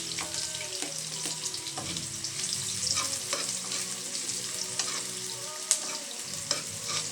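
Onion, ginger and garlic frying and sizzling in a pan for papaya pancit with sardines, a steady close hiss with occasional stirring clinks and scrapes.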